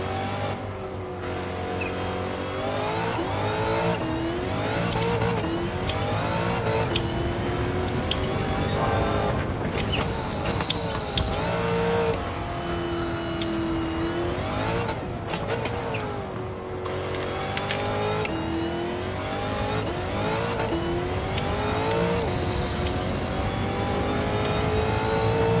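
A race car in Gran Turismo 7 revs and accelerates continuously, engine pitch rising and falling through gear changes, loud and close with no talking.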